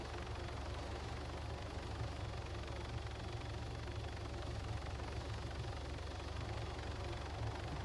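A helicopter in the military game Arma 3 gives a steady, faint rotor-and-engine rumble that holds evenly throughout, with no other sounds.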